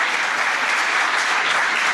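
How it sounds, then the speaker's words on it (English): A crowd at a congressional impeachment hearing breaks into dense, sustained applause and cheering, loud and steady for the whole stretch with no talk over it. "The crowd just erupted into applause there."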